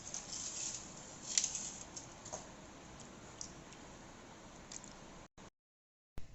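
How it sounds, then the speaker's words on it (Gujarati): Thin potato wafer slices drop into a bowl of water, making faint, scattered soft plops and drips over quiet background noise before a brief silence. "આ બધી જ વેફર્સને સાઈડમાં આપણે પાણીમાં નાખતું જવાનું છે"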